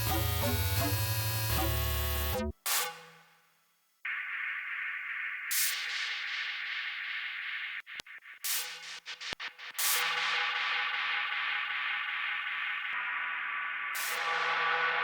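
Yamaha DX7 synthesizer voiced with high operator feedback gives a buzzy, noise-like tone: a dense harmonic chord, then a few separate sustained notes with short gaps and bright attacks, played alone with no voices.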